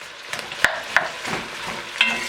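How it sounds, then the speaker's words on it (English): Onions dropped into a pan for French onion soup start to cook, giving a soft sizzle with a few sharp clicks and scrapes from stirring, close and brief with no talk. "drop our onions right in here and let them start cooking"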